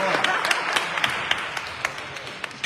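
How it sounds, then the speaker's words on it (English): An audience claps together in a room, a dense steady patter of hands with sharper individual claps standing out, no talking over it. "Let's give that a round of applause."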